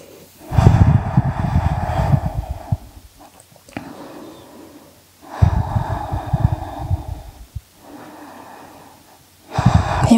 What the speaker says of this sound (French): Encore quelques respirations.